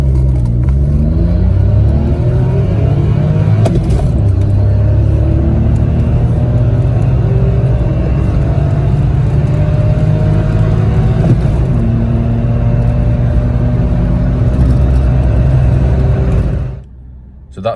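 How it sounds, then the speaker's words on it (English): A Citroen C1 fitted with Yaris injectors pulls away from a standstill at full throttle, its engine roaring steadily louder and higher as it revs hard for about sixteen seconds before cutting off abruptly. "So that's the Yaris injectors from a standstill, foot to the floor, letting it rev, giving it full power, just going for it."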